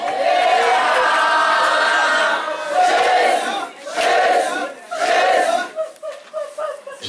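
A church congregation at a night prayer vigil erupts in loud, sustained cheering and shouting in acclaim of Jesus, with swelling waves of massed voices that fade and surge again toward the end.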